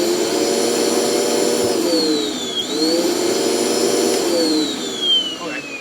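A Dirt Devil Express Vac handheld vacuum cleaner runs loud and close with a steady whine, its pitch sagging and recovering as it sucks up nuts, while a person talks over it.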